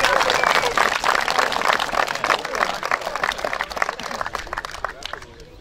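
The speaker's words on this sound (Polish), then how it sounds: "Zdecydowane brawa." Applause from the crowd at a village fire brigade sports competition in Cieszanów, dense rapid clapping from many hands that swells and then slowly tapers off, with voices mixed in.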